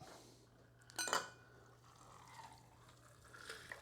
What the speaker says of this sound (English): Pour my drink. It's going to get right to the edge.